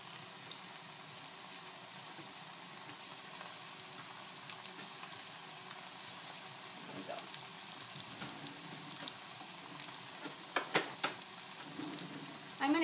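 Picadillo ingredients fry in a pan with a steady, fairly quiet sizzle; a few sharp clicks and clatters near the end.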